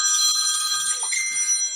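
A phone rings with a steady, high electronic trill in a home kitchen during a live stream about cooking and gardening, fairly loud and alone.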